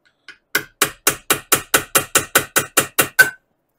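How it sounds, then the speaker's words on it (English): About twelve sharp metallic taps at a steady rhythm from a punch marking metal before drilling, on a VW Beetle front beam, close and loud, with no talking. "What I like to do first is to use a punch, something sharp, so the drill bit don't walk around"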